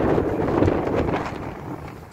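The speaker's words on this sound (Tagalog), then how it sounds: "Napakalakas ng hangin." Heavy wind batters the microphone, a dense, rumbling roar that stays loud and unbroken throughout.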